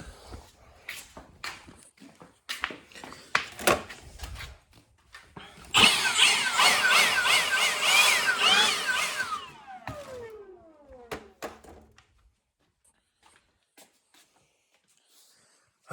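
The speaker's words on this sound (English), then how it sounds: "Let me just blow some air down here, just because there's a lot of metal shavings" Compressed air blasts under a Lexus SC300 project car to clear metal shavings, a loud hissing rush lasting about four seconds amid clanks and shuffling footsteps, then tapering off.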